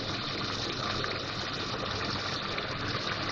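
Water poured into a frying pan of fish curry masala produces a steady, quiet hiss and sizzle that continues evenly throughout.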